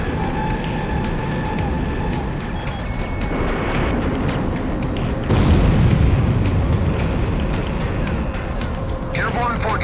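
In Ace Combat X, the Airborne Fortress explodes with a loud roaring boom midway that swells over a steady engine drone, with a radio voice talking across the scene.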